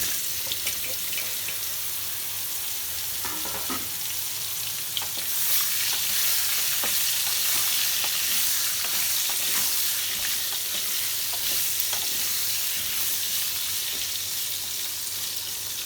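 Pumpkin pieces with asafoetida frying in hot oil, a steady broad sizzle with scraping stirs and faint clatter throughout, fairly close and without speech.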